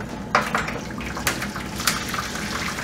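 Boiled water is poured into a flan baking pan with a steady liquid gush and a few sharp splashes and clinks, heard alone at close range.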